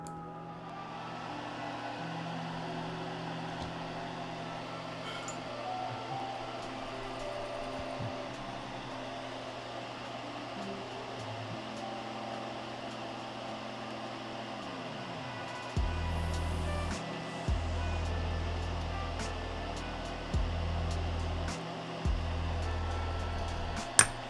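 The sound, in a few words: fume extractor running in the next room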